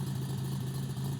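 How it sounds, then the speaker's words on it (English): A 30-year-old restored DeLorean idles steadily, a continuous low engine hum with no talk over it. "That's the idle."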